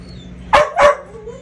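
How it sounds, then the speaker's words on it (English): Two sharp barks from a dog close by, back to back around a quarter second apart, standing out clearly over a quiet room hum with no one talking. "It's like the effective pause makes the dog bark."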